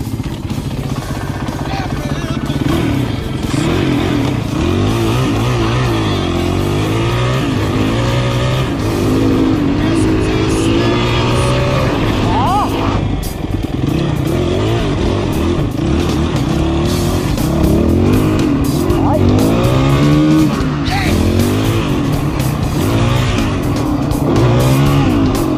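Car driving off after a flat tire was repaired, a loud continuous engine roar with rising and falling revs and some tire noise, close by and steady throughout.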